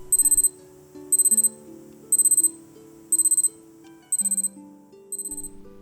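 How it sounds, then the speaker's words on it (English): A Citizen Promaster Skyhawk JY8120-58E solar radio watch alarm sounds in repeated bursts of rapid high beeps, about one burst per second, over a soft musical tone, close and clear. "here's what the alarm sounds like."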